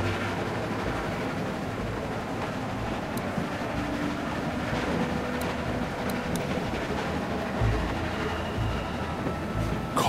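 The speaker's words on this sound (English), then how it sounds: "Stop the train. Stop it, goddammit!" A train rolls along in The Walking Dead video game, making a continuous rumbling and rattling of wagons on rails with scattered clanks and squeaks. It runs steadily through the whole stretch with no voices.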